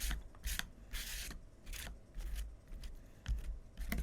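A spatula scraping a thin layer of crackle glaze onto a papercraft surface, a series of short rasping strokes repeated in an uneven rhythm, close and quiet with no voice.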